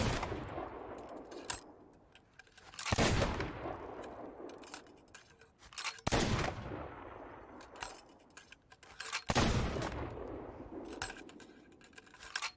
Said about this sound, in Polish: Karabin wyborowy oddaje strzał średnio co 3 sekundy.